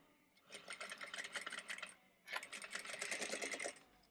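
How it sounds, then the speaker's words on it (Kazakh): A sewing machine stitches elastic for a headband in two close, steady runs of rapid mechanical whirring and needle clatter, with a brief pause between them and no talking. "Сосын шығарып, мына жағынан тігіп жібереміз."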